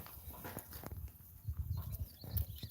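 Horses at a family homestead shift about and munch on a bale of hay, with soft hoof thuds, rustling and chewing scattered irregularly throughout at close range.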